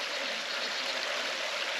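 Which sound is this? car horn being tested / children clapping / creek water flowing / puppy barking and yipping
creek water flowing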